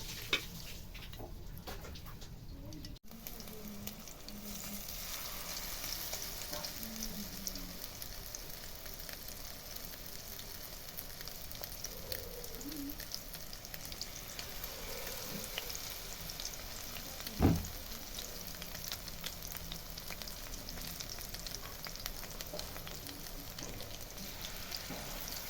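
Amudi fish pakoras deep frying in hot oil, giving a steady, even sizzle that carries throughout, with a single brief knock partway through and no voices.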